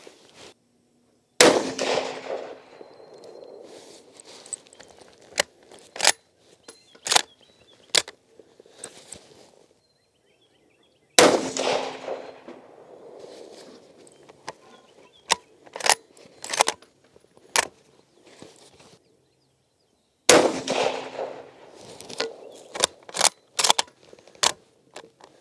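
A Mosin Nagant rifle fires three loud, sharp shots spaced several seconds apart, and each is followed by a series of metallic clacks and clicks as the bolt is worked.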